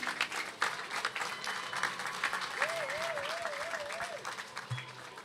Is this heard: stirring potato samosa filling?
no